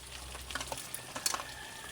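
Kare-kare is stirred in a cooking pot, a brief mix of soft scraping and sloshing clinks over a low simmering sizzle, close and without talk.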